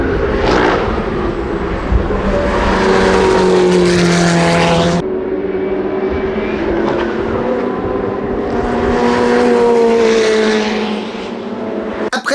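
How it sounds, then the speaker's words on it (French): Ferrari 488 Challenge race cars lap the track at Spa, engines rising and falling in pitch as they pass nearby, with one car fading and another approaching. "il y avait également pas mal de Ferrari 488 Challenge"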